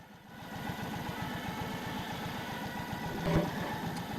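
A 2020 Indian Roadmaster motorcycle sits at a standstill with its engine idling in a steady, low, rhythmic thrum, fairly quiet and even throughout, with no voices.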